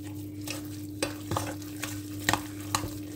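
Semolina, olive oil and other ingredients for homemade turkey or chicken mortadella with olives are mixed together, producing several distinct scraping clinks of a utensil against a bowl over a faint steady hum, with no voices.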